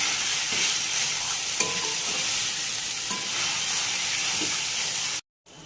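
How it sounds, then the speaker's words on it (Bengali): Potato and chhana filling being stirred in a hot pan, a steady broad sizzle with occasional scrapes of the spoon, loud and close, cutting out briefly near the end. "আলু ছানা সমস্ত কিছু একসাথে ভালো করে মিক্স করে নিয়েছি"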